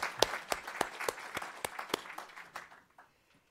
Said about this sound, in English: I can't help but invite us all to offer another round of applause for Secretary Cohen